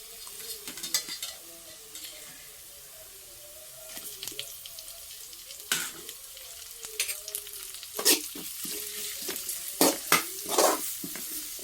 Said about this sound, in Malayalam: ഇനി നമുക്ക് ഇതിലേക്ക് തക്കാളി കൂടി ഇട്ട് കൊടുക്കാം